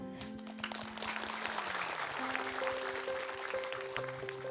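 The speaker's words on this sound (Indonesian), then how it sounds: "Tepuk tangan" Applause from a studio audience at an Islamic TV talk show, a dense broadband patter of clapping that holds steady for several seconds over faint background music tones.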